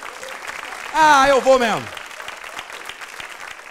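An audience at a stand-up comedy show applauds steadily in the background, a soft, continuous patter of many hands, while someone speaks briefly in a rising, exaggerated voice over it partway through.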